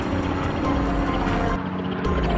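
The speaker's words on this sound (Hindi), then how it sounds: "वहां अर्जुन भी अपने हेलीकॉप्टर के साथ गांव में आता है" A cartoon helicopter robot flies by with a loud, continuous whirring rotor drone that cuts out briefly near the end, with no voices.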